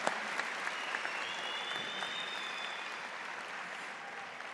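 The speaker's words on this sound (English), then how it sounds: "A round of applause for that." A graduation convocation audience gives a sustained round of applause, a dense even wash of clapping that holds steady and tapers a little toward the end.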